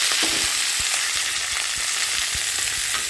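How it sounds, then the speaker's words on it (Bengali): Potatoes sizzle and crackle in hot oil, a constant loud frying hiss with occasional stirring clicks. "আলুটাও কিন্তু একটু ভালো করে ভাজবে"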